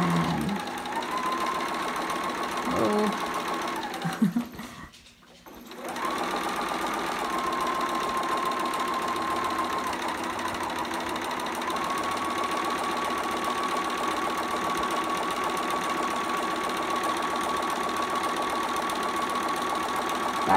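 A home sewing machine runs a straight stitch and back stitch on a bell-sleeve romper, a steady whirring hum with a brief pause and clatter partway through, then continuing evenly close by.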